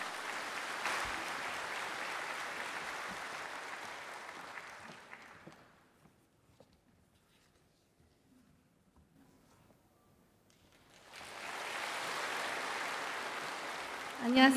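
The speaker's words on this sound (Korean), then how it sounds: "우리 박수로 모시도록 하겠습니다" A church congregation claps in welcome for a speaker, sustained applause that fades into quiet, then a second burst of clapping swells up near the end, full and roomy.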